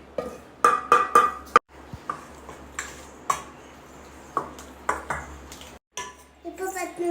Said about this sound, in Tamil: இப்போ மிக்ஸ் பண்ணிக்கலாம். இந்த அரிசி மாவு ஆட் பண்ணிக்கலாம்.